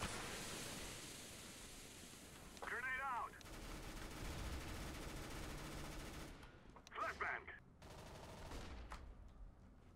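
Gunfire in the video game CS:GO: rapid automatic bursts and shots packed into a dense, noisy firefight, with short louder bursts standing out near the middle and end.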